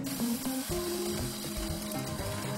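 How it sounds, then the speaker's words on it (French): A coffee grinder grinds beans for espresso with a continuous, close mechanical whirring and ratcheting rattle. "moudre son café juste avant de faire son expresso"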